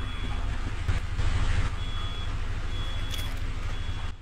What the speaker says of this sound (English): Oh, my smoke alarm's going off.